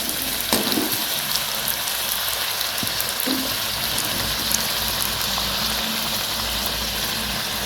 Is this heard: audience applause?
no